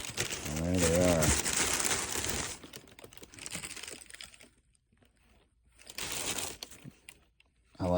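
Tissue paper crinkling as a box of Nike Mind 002 sneakers is unpacked: a loud burst of rustling at the start, then quieter handling and a second crinkling burst later, with a brief voice early on.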